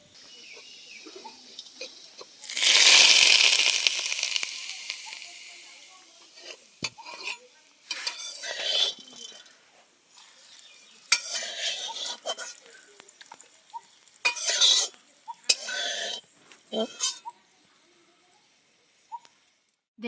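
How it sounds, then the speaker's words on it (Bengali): Tempering of dried chillies stirred in a pan with a utensil for bottle gourd peel chutney, a loud burst of sizzling early on followed by intermittent scraping and clinking stirs, with no talk. "দেখুন দেখুন ফোড়নটা দিয়ে খুব ভালো করে নেড়ে চেড়ে"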